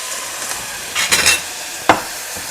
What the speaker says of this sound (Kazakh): Енді су құямыз.